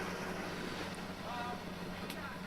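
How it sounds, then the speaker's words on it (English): A go-fast speedboat runs out in a channel, its engine a distant low drone under wind noise, faint and steady throughout. "It's a go-fast boat out in the channel."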